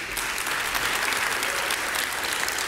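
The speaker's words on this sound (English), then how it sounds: "That's what's slowing the applause." Steady applause from a large audience at a Microsoft Windows 10 devices launch event, a dense, even wash of clapping sustained throughout without pauses.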